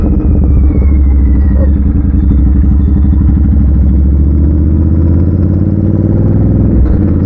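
A Continental GT 650 twin-cylinder motorcycle with an aftermarket exhaust idles loud and close, a deep continuous throbbing rumble that stays steady throughout with no talking.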